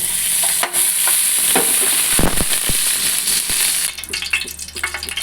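Ghee heats in a wide pan on a gas stove for egg biryani, giving a steady close sizzle with crackles and a few stirring scrapes that soften toward the end.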